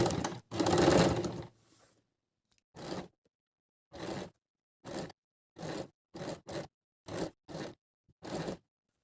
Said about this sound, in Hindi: अब हम इसको सिलाई देते हैं।